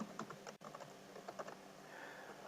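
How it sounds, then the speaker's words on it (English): Quiet computer keyboard typing, a quick run of soft key clicks as a username and password are entered, fairly close and alone with faint room hiss. "you'll need to type in your DEC username. Use your normal DEC username, then type your normal DEC password."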